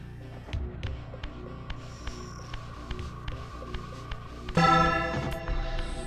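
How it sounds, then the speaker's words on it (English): A bell rings in the Soul Reaver Remaster video game, one loud clang near the end with a long ringing decay, after a stretch of lighter metallic tones over a low droning game ambience. "the enemies here don't like the sound of the bell"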